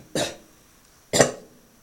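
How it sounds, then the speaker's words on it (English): Two separate coughs from a person who is sick, each a sharp, close burst followed by a short fading tail, spaced about a second apart against near silence. "Sorry guys for the cough"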